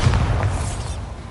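A Bombarda spell explosion in Hogwarts Legacy hits as a loud, close, rumbling blast that quickly fades over about a second.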